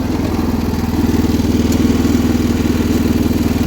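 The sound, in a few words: 1979 John Deere 216 lawn tractor driving in fourth gear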